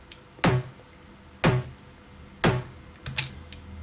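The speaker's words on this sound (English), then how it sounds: "Let's take a listen to our snare shell." Three evenly spaced synthesized EDM snare shell hits ring out alone, each a sharp punchy attack with a short body, followed by a fourth softer hit.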